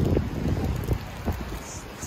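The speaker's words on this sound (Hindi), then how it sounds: "स्नो नहीं हो रहा है, बारिश हो रही है" Rain falls steadily outdoors at night, a broad, soft hiss with scattered drop taps and some wind noise, heard alone and fairly close.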